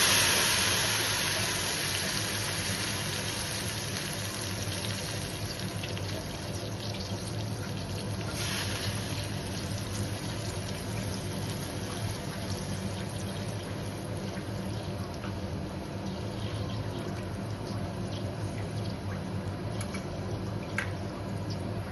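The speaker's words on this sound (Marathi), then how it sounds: "लगेच आपण यामध्ये पाणी ऍड करणार आहोत." Water poured into green masala frying in oil for a fish curry: a steady, continuous hiss and watery rush that holds evenly for over twenty seconds, with no voices.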